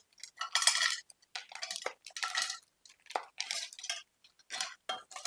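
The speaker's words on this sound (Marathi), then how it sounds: "पॅन मध्ये खूप जास्त आपल्याला तूप लागत नाही एक ते दीड चमचा मी यामध्ये तूप टाकून घेतलेलं आहे आपल्याला व्यवस्थित हलवता येईल इतपत यामध्ये ही खारीक टाकून घ्यायची" Dry dates being stirred while roasting in a spoonful of ghee in a pan, repeated scraping and rattling strokes with short pauses between them, close and fairly clear.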